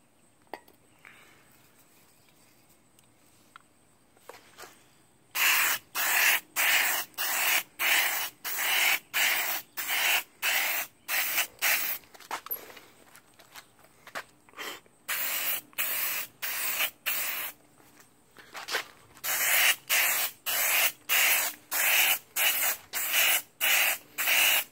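A can of white primer sprays onto a Captain America shield in a string of short hissing bursts, some quick and some a little longer, close and fairly loud with quiet pauses between them.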